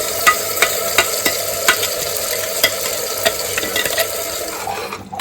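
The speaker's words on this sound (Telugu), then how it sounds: "నూనె పైకి తేలేంత వరకు ఫ్రై చేసుకొని పెట్టుకోవాలి" Ground masala paste frying in oil on a low flame for Hyderabadi mutton keema, a steady close sizzle broken by regular scraping stir strokes and the clink of a spoon against the pan, with no talk.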